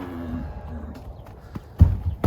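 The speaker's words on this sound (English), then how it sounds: "These are beautiful horses, the two that boarded here last night. They're part draft horses" Part-draft horses shift and step nearby, with a few heavy thuds and clops toward the end over a low rumble and faint background noise.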